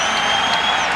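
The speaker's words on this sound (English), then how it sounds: "The crowd responding to the good start by the LA Lakers" A dense, steady roar of crowd noise at the 1991 NBA Finals Game 5 between the Bulls and the Lakers, a loud wash of cheering and clapping that fills the whole second.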